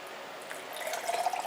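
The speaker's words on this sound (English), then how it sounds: "then I'm going to add a measured cup of 1 1/3 water." A measured cup of water is poured into salt, starting as a soft trickle and growing into a brighter, splashier pour by the end.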